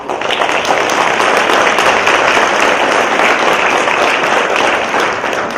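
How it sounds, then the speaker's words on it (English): Steady, dense applause from a large crowd, loud and sustained throughout with no pauses. "I'd appreciate a round of applause for all those."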